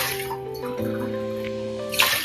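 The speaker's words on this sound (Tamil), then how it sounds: "இப்போ நம்ம 6 டம்ளர் தண்ணி அளந்து ஊத்திக்கலாம்." Water is poured from a tumbler onto soaked rice and toor dal in a cooking pot, a short steady splashing pour with a brighter gush near the end, close and alone.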